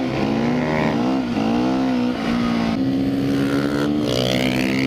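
A Sherco 300 SEF-R dirt bike, or another motocross machine, rides past with a steady, loud engine drone that rises and falls through gear changes and revs as it passes close by.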